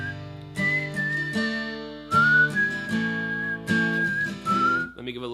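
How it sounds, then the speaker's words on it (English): A person whistles a 90s rock melody over strummed acoustic guitar, the whistled tune clear and sustained, sliding between long held notes as the guitar chords change underneath. "Let me give a little reverb to that whistle."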